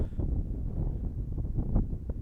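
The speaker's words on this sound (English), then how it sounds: "Wind is right in my face at this point" Wind buffeting the microphone on a golf course, a low, gusty rumble that rises and falls over a couple of seconds with no voices.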